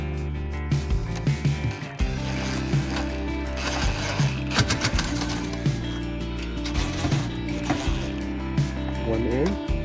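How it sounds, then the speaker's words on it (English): Self-tapping screws driven into the metal frame of a Costco Tresanti sit/stand desk, a steady mechanical whir with ratcheting clicks and bumps that runs throughout, up close, while a person talks. "I'm going to put these self-tapping screws in there."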